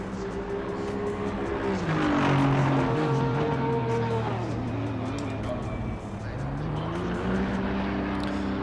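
Race car engine revving loudly in Assetto Corsa Competizione on the Oulton Park circuit, a BMW M4: a sustained roar with pitch rising, falling and climbing again, close and continuous with no speech.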